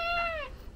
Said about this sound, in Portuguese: Vou mostrar o gato dela pra vocês aqui